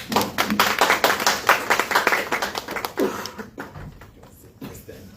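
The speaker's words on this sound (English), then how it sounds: "Please give him a round of applause." An audience at a book launch claps and applauds steadily, loud and dense, then tapers off into scattered claps toward the end.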